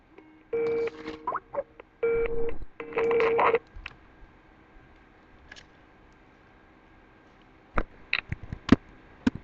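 Several bursts of telephone dialing tones, steady electronic beeps in three clear groups, followed by scattered short clicks and blips in a mostly quiet background.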